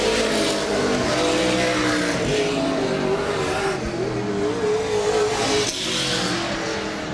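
Dirt-track race cars at Laird Raceway roar side by side on Thursday night, engines droning loudly and continuously with rising and falling revs and occasional tire noise.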